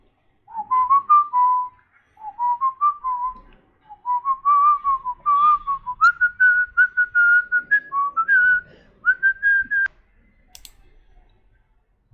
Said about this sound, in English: jingle bells and whistling